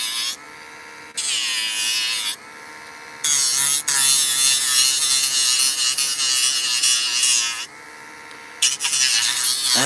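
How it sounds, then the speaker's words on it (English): A Dremel rotary tool buzzes in close bursts while working on a paper model, its high whine switching on and off and shifting in pitch as it bites. "this Dremel light tool has saved me a bazillion hours work"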